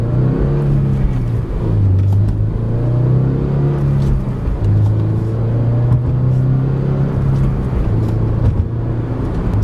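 Loud cabin recording of a 2022 Subaru BRZ with active sound control disabled accelerating at full throttle, its engine note rising and dropping through several gear changes with a raw, gravelly rumble.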